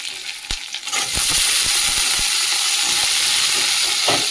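Potatoes fry in a pan with garlic, onion and green chili. A few spatula clicks lead into a loud, steady, close sizzle that holds unbroken to the end, with no one talking over it.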